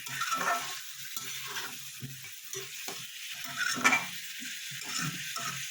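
Chicken and tomato sautéing in a pan over low flame, a soft steady sizzle with intermittent scraping and stirring strokes of a spatula, close and moderately loud, no talking.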